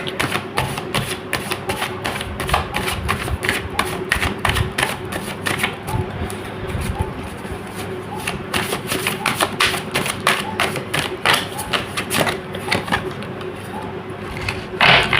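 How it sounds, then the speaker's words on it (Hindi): Tarot cards being shuffled by hand, a steady run of quick papery riffles and soft taps that continues close and fairly loud with no talking. "So let's shuffle the cards."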